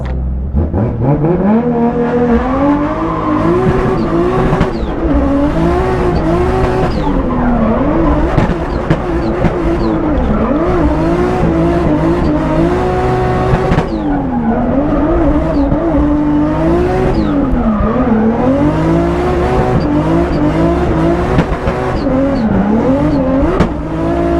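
A drift car on a qualifying run at a Klutch Kickers drift event, its engine revving hard with sweeping pitch changes as throttle is held on, with continuous tire squeal and skidding, loud and close throughout.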